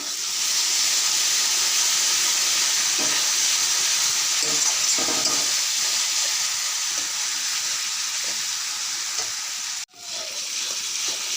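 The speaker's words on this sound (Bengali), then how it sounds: "মশলা ভালো করে কষাই নিলাম।" Masala of turmeric, salt and cardamom sizzles steadily in a hot pan, a loud continuous frying hiss with occasional stirring scrapes and a brief drop in the sound near the end.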